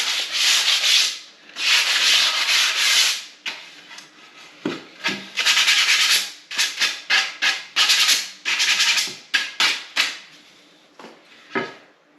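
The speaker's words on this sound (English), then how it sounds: "I'll just take my sandpaper just lightly hit the edges" Sandpaper lightly rubbing the edges of wooden Craftsman-style window trim boards to take off burrs, heard as close, repeated scratchy strokes in short bursts with brief pauses between.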